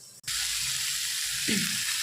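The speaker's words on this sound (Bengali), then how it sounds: "আমাদের বিনস আলু ভাজাটা একদম রেডি হয়ে গেছে" Beans and potatoes frying in a covered pan over low gas flame, a steady soft sizzle with a brief muffled knock near the start.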